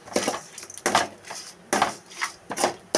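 Tomatoes being stirred in a pan for temple-style coconut rice, heard as four distinct scraping strokes of a spoon against the pan in a slow, regular rhythm, close and moderately loud.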